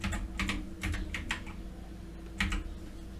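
Fingers type a short burst of keystrokes on a computer keyboard, close up: a few quick clustered clicks, a pause, then one more key press, with no talk.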